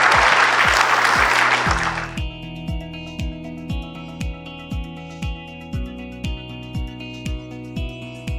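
Investment conference audience applauds a panel for about two seconds, the clapping cutting off as a steady, rhythmic electronic music beat with regular kick drum pulses takes over.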